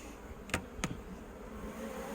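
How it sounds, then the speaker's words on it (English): A soft, steady buzz of many bees hums faintly throughout, with a couple of sharp clicks near the start. "look at all those bees"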